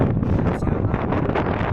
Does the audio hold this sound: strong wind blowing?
yes